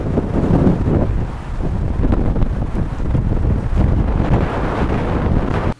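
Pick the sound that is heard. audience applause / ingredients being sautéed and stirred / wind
wind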